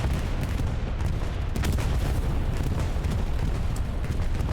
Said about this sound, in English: Bombing run? Bombing run! Bombing run!